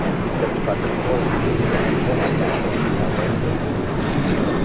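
A KLM Boeing 787-10 Dreamliner taking off from the south side, bound for Amsterdam, gives a steady broad jet roar that holds at an even level throughout, with a faint voice underneath.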